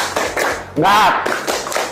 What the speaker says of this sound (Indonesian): kita sama-sama tepuk semangat